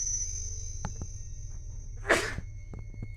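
A single sharp sneeze bursts out near the mic midway through, loud and brief against a quiet background with a steady hum and a few faint clicks.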